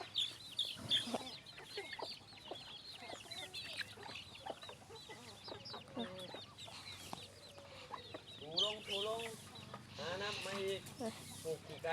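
Chickens cluck and squawk repeatedly around a home yard, the fowl calls coming in irregular bursts close by while people talk.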